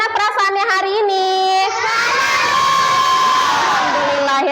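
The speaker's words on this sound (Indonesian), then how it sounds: "Tepuk tangan dong untuk Farida." A classroom of children in an Indonesian school bursts into loud cheering and shouting, a sustained bright crowd of young voices after a sung-out call at the start.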